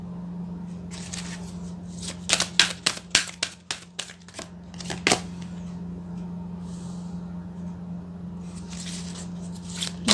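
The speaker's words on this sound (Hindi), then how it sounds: "सबसे पहले कार्ड शफल कर लेते हैं" A deck of tarot cards is shuffled in a quick flurry of crisp riffling snaps, close and fairly soft, over a steady low background hum with no voices.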